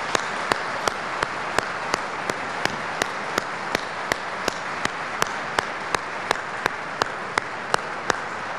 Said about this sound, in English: please give a round of applause to the Hagel family.